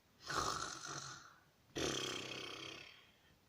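Two long, rasping snore-like breaths by a human voice, one after another with a short pause, imitating snoring rather than actual sleep sounds.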